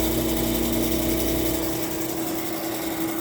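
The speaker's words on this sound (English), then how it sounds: "The compressor turned on." A pancake compressor in an Emerson air conditioner runs steadily just after start-up, a close, even motor hum with a faint tonal whine that lasts the whole stretch without pause.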